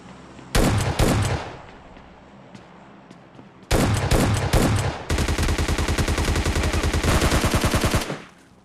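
Gunfire in PUBG Mobile Lite comes in loud close bursts: a few single and double shots early, then a long rapid automatic stream of several seconds that fades at the end.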